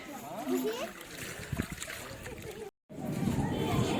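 Water splashes and sloshes as feet are washed at the Koteshwar sea shore, with uneven close splashes mixed with talking and a brief dropout partway through.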